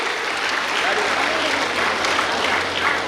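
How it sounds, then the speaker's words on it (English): A large crowd at a medical college graduation ceremony claps in a dense, continuous wash of applause, steady and full throughout with a low hum beneath. "One round of applause."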